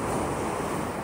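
Ocean waves washing onto a beach in Mexico, a loud, steady rush of surf with wind buffeting the microphone throughout, no voices.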